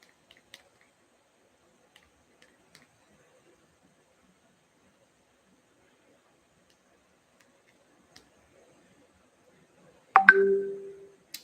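A phone is picked up and handled: a short burst of clicks and rubbing noise near the end, close by, after several seconds of near silence with a few faint ticks.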